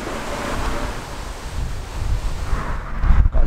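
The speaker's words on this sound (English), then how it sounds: "It's very, very blowy here today." Strong September wind buffets the microphone outdoors in a Surrey village, a loud, rumbling roar that surges and gusts, swelling near the end, with no voices.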